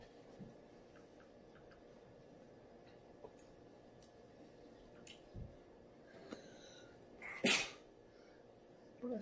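A single sharp sneeze bursts out near the end of a quiet indoor stretch, preceded by faint ticks and small rustles.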